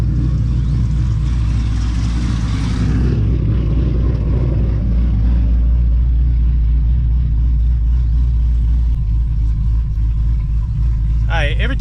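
Loud, steady engine rumble from a stage 2 cammed Pontiac G8 GT running rich during normal driving, with a droning exhaust that eases slightly partway through and a faint high whine near the end.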